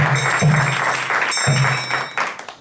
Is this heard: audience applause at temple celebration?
yes